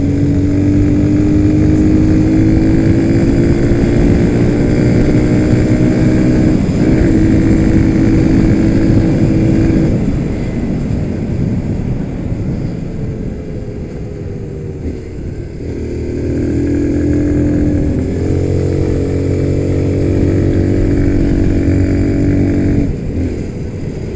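A Victory MRX 150 motorcycle on a road test along a highway rides steadily, engine droning loud and close with rising and falling pitch as it shifts gears and slows, accompanied by wind rumble.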